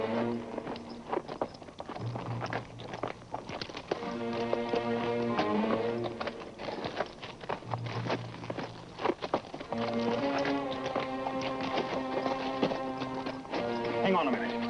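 Horse hooves clip-clop in a steady walking rhythm throughout, mixed with a busy music score and a voice speaking over it.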